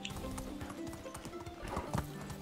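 A horse trots along in the video game Medieval Dynasty, its hooves clip-clopping in a quick steady rhythm up close, with a brief neigh and game ambience behind.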